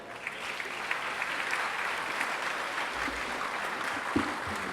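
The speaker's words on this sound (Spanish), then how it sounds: "fuertes aplausos para él." An audience at the SNI Foro Industrial Pucallpa 2019 industry forum gives steady, dense applause for a speaker, sustained at an even level throughout with a few sharper claps standing out and no talk over it.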